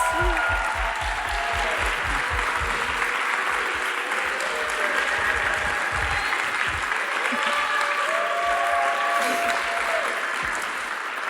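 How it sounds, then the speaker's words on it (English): Sustained applause from a large in-person audience at the 2022 ERA Awards ceremony in a theater, loud and steady, with some voices and scattered music-like tones mixed in. "Let's give them a round of"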